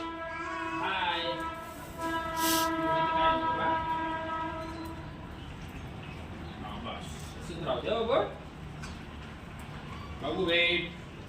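A train horn sounds over the steady rumble of a train passing at a distance across fields, while people talk intermittently nearby.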